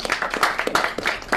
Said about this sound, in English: Let's give John a round of applause, please.